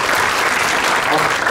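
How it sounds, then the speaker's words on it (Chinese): Audience applause at a COSCUP 2016 open-source conference talk, a steady dense wash of clapping throughout, welcoming a MediaTek front-end engineer to the stage. "掌声欢迎"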